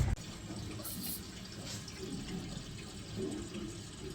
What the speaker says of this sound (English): So before it shuts off, it just lets a bit of water out